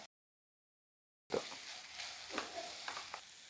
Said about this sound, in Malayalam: നമ്മുടെ ബോട്ടി ഫ്രൈ ആയി വരുന്നുണ്ട് കേട്ടോ